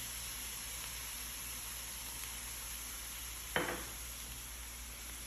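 A pan of hot chili and tomato mixture sizzles in a constant, even hiss, broken once by a single sharp scrape of the stirring utensil.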